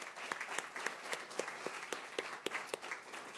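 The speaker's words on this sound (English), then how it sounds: "Give them one more round of applause." A small audience gives a round of applause for five newly sworn-in police officers at a swearing-in and promotion ceremony, with scattered individual claps ringing out fairly steadily over a few seconds at moderate distance.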